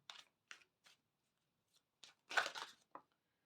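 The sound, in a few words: shuffling oracle cards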